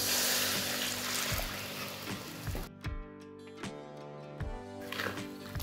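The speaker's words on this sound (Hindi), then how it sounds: "अब इसमें पानी डालेंगे, ग्रेवी के हिसाब से पानी डालेंगे।" Water poured into sizzling fried masala in a pan for fish curry gravy, a loud hissing sizzle that quickly softens into bubbling with spoon knocks and stirring clatter.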